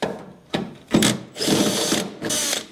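A power drill backs 5/16 tech screws out of a Squarebody Chevrolet Suburban truck, giving several short whirring bursts of varying length separated by brief pauses, close and moderately loud.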